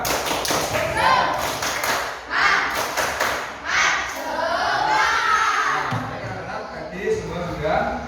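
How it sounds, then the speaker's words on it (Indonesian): A classroom of students doing a rhythmic spirit clap together, a series of sharp group taps and thuds in a steady pattern, with voices chanting and talking over it. "Kita lakukan dulu tepuk semangat bersama-sama."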